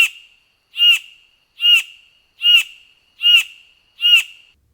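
Vogelkop superb bird of paradise giving six evenly spaced, sharp, loud calls, each a rasping burst that fades quickly, with silence between them.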